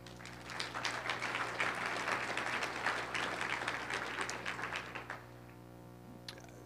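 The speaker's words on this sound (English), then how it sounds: "Give yourselves a round of applause" Audience at the 2012 MOSES Organic Farming Conference keynote claps in a dense, steady burst of applause for about five seconds, then it cuts off, leaving a quiet room with a low hum.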